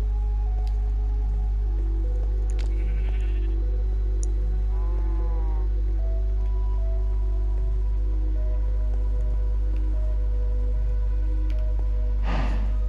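A Minecraft sheep bleats once with a short, wavering call near the middle, over a constant low hum of in-game ambience. Faint animal snorts and clicks are scattered around it.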